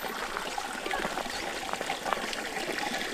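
Water trickles steadily from a spring outside a mountain hut in the Val Zemola, a soft continuous splashing close by with faint outdoor background and no talking.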